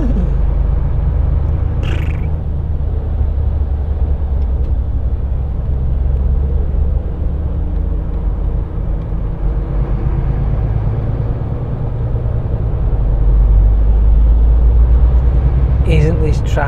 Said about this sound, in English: Isn't this traffic wonderful?